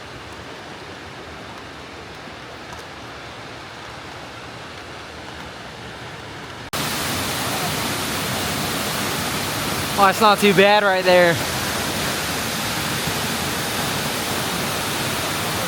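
A waterfall at Hanging Lake in Glenwood Springs roars as a loud, steady rush of falling water that jumps in level partway through, while a person speaks briefly over it.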